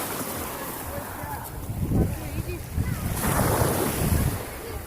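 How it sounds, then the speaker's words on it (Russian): Black Sea waves break on a rocky shore in Abkhazia, rolling surges swelling and crashing at close range amid gusty wind buffeting the microphone, with no clear talk. "Вон такие волны."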